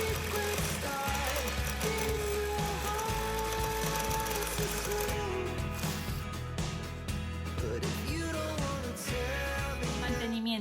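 Parkside 20V cordless right-angle impact driver turning a step bit through metal or plastic, a whining motor with rapid ratcheting hammer clatter that stops and restarts in bursts.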